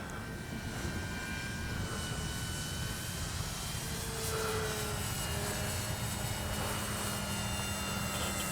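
A Dynam DHC Beaver V2 RC plane with bush wheels flies overhead outdoors, its electric motor droning steadily and loudly throughout with a slight swell midway, no voices heard.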